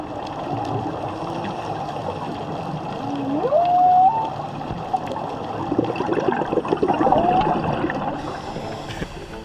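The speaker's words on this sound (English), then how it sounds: "you could hear the call of whales singing to each other" Whale song underwater on a dive off Mona Island, Puerto Rico, with long rising and gliding tonal calls over a murky wash of water and distant boat rumble, loud and close.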